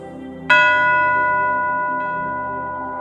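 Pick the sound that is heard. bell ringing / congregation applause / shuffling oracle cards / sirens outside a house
bell ringing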